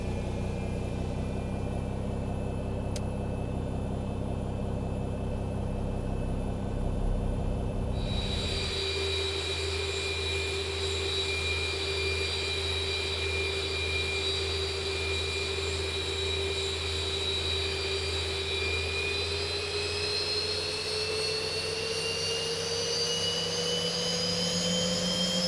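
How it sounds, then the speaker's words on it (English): A Boeing 737 jet engine spools up in X-Plane 11, a low rumble giving way to a steady whine whose pitch rises gradually as the engine winds up, loud and continuous with no voices. "So we'll go ahead and start engine number 2."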